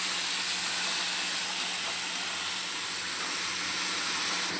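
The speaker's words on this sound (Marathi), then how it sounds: "आता आपण याला थोडं 2 मिनटं चांगलं असं परतवून घेऊ." Capsicum and potatoes sizzle while being sautéed in a pan, a steady close hiss that holds evenly throughout with no voice.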